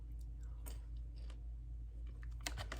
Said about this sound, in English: the popcorn is crunchy